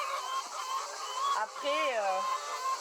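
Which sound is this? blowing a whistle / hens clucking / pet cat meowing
hens clucking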